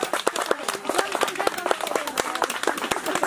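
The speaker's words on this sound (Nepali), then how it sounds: "ताली बजाउनु पर्छ सबैजनाले" Guests at a wedding ceremony clap together in a brisk, uneven burst of applause that carries on throughout, mixed with nearby voices talking over it.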